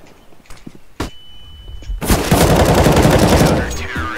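Gunfire in Counter-Strike: Global Offensive during a competitive round: a sharp shot near one second, then from two seconds a loud, dense sustained burst of automatic fire with heavy echoes that tails off near the end, with faint voices under it.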